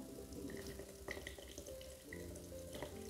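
Water drains from a baby bathtub, a faint continuous gurgling trickle with small splashy bursts, heard close and steady for a few seconds without talk.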